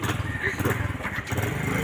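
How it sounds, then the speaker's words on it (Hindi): A motorbike engine is started and runs with a rough, sputtering rumble that stays steady and fairly loud nearby throughout, with a voice speaking over it. "बाइक स्टार्ट हो रही थी।"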